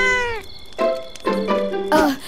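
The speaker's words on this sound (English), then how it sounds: "A cat?" A cartoon cat in an animated BoBoiBoy Galaxy episode gives four short, close, clear meows in quick succession, each a rising and falling tonal cry.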